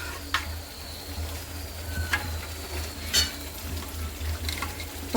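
Hot oil tempering for dal bati sizzles softly and steadily, with cooked dal just added to the pan, broken by a few sharp spattering pops and light clinks of a stirring spoon.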